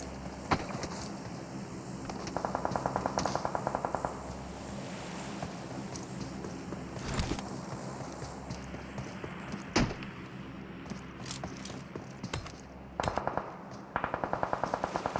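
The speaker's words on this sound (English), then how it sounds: "You hear shots in the area." Bursts of automatic gunfire in an online shooter match, rattling volleys at intervals, fairly close, over a constant rushing ambient backdrop with scattered single shots.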